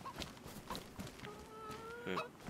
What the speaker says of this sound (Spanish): Es una gallina